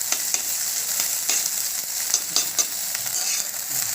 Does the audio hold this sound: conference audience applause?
no